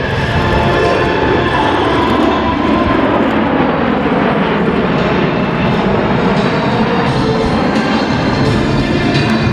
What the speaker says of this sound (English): watch as the Osprey passes overhead at over 250 knots